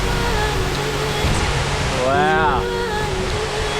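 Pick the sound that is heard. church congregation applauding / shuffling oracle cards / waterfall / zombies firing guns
waterfall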